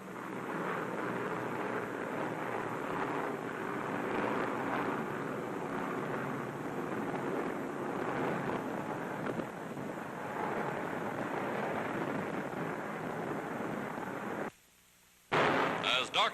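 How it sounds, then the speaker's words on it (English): Wartime newsreel of Allied bombers and fighters pounding and strafing Axis columns near Tunis and Bizerte: a dense, continuous roar of engines and rumbling blasts with crackling fire, steady and loud throughout before a sudden brief drop near the end. "Bombers and fighters pounding and strafing the Axis columns"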